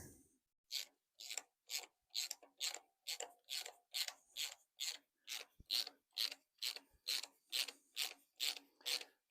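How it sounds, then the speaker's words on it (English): A ratchet wrench clicks steadily on the alternator bolts of a hydrolocked, badly damaged Ferrari F136 V8 engine, roughly eighteen even rasping strokes in a quiet, close rhythm with no speech. "Let's see how tight these alternator bolts are in."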